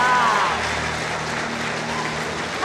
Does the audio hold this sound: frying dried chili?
no